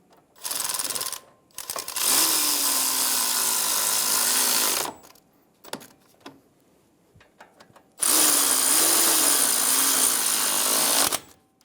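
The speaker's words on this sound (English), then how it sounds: "Snug the bolts down." A power tool snugs down the front brake caliper bracket bolts on a 2011-2014 Hyundai Sonata, with a short burst and then two long, loud, steady whirring runs separated by quiet clicks and handling noises.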